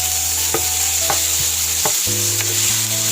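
Tomatoes and salt stirred in a frying pan, a steady sizzle broken by a few sharp scrapes of the spoon against the pan, close and fairly loud with no talking.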